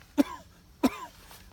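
Two sharp, close coughing notes blown into the back of a duck call, each a short throaty thump from the diaphragm, separated by about half a second.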